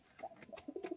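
A male red-coloured pigeon from a pair gives a short series of soft, low coos. Each pulse is close and quiet and follows quickly on the last.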